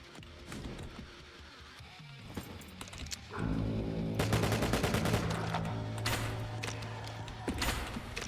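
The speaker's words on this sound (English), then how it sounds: "So it's not just a grenade launcher, it's also like creates a wall of flame that you can use to debuff enemies a bit" Gunfire from a flame-trailing grenade launcher in the game IVOR, a busy run of sharp repeated bursts that grows louder and denser after the first few seconds over a steady low rumble, with no talk.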